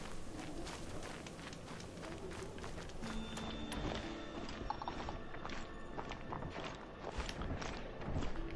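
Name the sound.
horse hooves clip-clopping, from video game Horizon Zero Dawn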